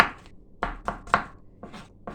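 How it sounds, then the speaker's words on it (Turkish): A knife chops zucchini on a cutting board in uneven bursts, about seven sharp, close taps with short pauses between groups. "Ben bile daha hızlı doğrarım ama korkuyorum elimi doğrarım diye"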